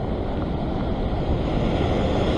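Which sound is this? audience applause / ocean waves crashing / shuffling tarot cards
ocean waves crashing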